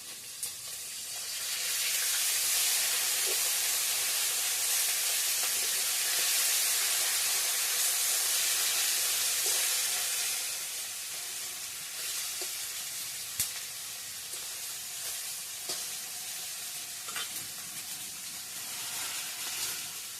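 Fish pieces frying with potatoes in an oily pan, a loud, continuous hiss that swells and then settles to a softer sizzle with occasional small pops, close and without voices.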